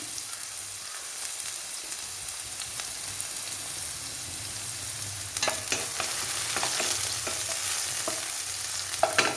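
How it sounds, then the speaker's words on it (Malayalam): Finely chopped onion frying in oil in a pan for chicken noodles, a steady hissing sizzle that grows busier midway with sharp crackles and occasional stirring clicks, close by and with no one speaking. "എണ്ണ ഒഴിച്ചു കൊടുത്തു ഇനി നമുക്ക് സവാള ഇട്ട് കൊടുക്കാം"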